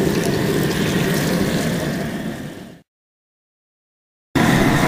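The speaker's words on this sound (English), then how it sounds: "all we're doing right now is adding water to keep them clean" Water gushes from a hose or tap into a container of live crawfish being rinsed before a boil, a steady loud splashing rush that cuts off abruptly and then resumes.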